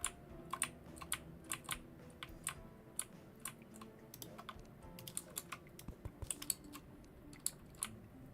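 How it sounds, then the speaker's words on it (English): Someone types on a computer keyboard while playing modded Terraria, with sharp key clicks coming in irregular bursts and small clusters, close and fairly quiet against a low background hum, with no voice. "And if my keyboard's too loud, let me know, please"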